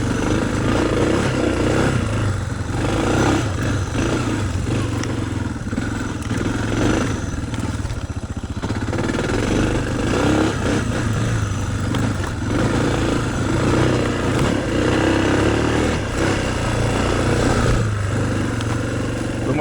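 A Suzuki DR650 dual-sport motorcycle rides off-road on a trail, its single-cylinder engine thrumming loud and close with constant rattle and clatter of the bike over rough ground.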